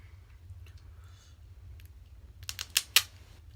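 Alaskan king crab legs from a seafood boil are cut open: a quiet room hum, then a quick run of four or five sharp, close cracking snaps of shell near the end.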